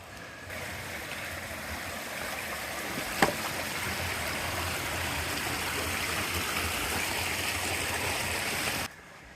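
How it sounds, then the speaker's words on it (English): A stream flows across a hiking trail in the foothills, a steady broadband rush of water running close by with one brief knock near the start and no voices. "Looks like we have a water crossing."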